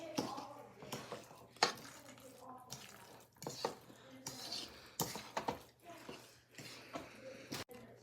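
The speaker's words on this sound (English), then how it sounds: "Now we mix." Guacamole ingredients of avocado, diced red onion and cilantro are mixed in a bowl, making close, repeated wet squishes and clinks of a utensil against the bowl in an uneven rhythm, quiet overall.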